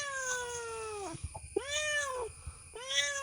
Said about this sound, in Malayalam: നമ്മളങ്ങനെ പൂച്ചനെ കഷ്ടപ്പെട്ട് നൈസായിട്ട് കൂട്ടില് ആക്കിയിട്ടുണ്ട്.